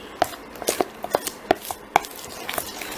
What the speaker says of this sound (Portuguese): E agora a gente vai mexendo